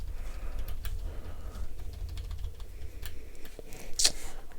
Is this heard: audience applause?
no